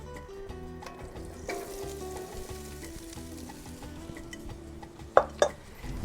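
Baby back ribs fry in a skillet with a steady close sizzle and low humming crackle, followed near the end by a few sharp metallic clinks of a utensil against the pan.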